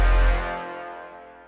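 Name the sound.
Ujam Symphonic Elements brass stabs layered with Sublab sub bass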